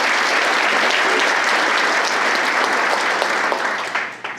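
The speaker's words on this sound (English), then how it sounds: "I would love to give you a round of applause for that." A crowd applauds with loud, dense clapping that holds steady, then fades out at the end.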